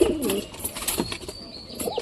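A pigeon coos nearby in soft, throaty bursts, one at the start and another near the end, with faint rustling between the calls.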